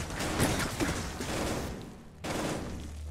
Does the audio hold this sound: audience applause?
no